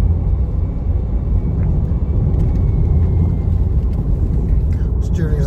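A 2015 Land Rover Range Rover Evoque with a manual gearbox holds a bend at about 50 mph, giving a loud, steady low road and engine rumble with wind noise and no clear talk.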